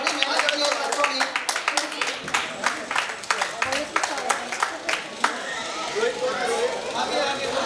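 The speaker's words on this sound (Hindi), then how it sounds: "तो तालियां आप लोग बजाते रहें।" An audience at a prize ceremony for a Louis Braille birth anniversary event claps in a sustained, uneven patter of many hands, with chatter and voices mixed underneath.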